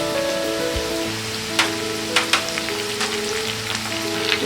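Curry leaves hit hot oil in a pan and set off a steady frying sizzle with sharp crackling pops scattered through it, close and continuous with no voices.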